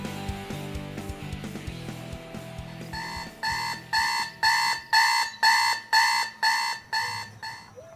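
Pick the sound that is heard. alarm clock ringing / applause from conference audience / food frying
alarm clock ringing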